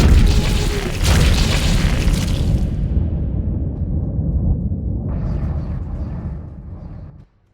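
Asteroids explode in the Dead Space video game, heard as a loud, sustained rumbling boom with a rough blast at the start that rolls on for several seconds before cutting off abruptly.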